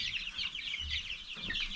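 Chickens on a chicken farm cluck continuously in a busy flock chorus, fairly close, with a low thump partway through and no talking.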